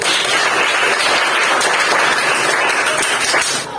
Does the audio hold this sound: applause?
yes